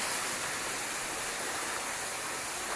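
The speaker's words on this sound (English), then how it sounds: "Gorgeous waterfall in the back here." A waterfall behind the gardens at Simala Shrine gives off a soft, steady, even rush of falling water, faint and continuous with no other sounds over it.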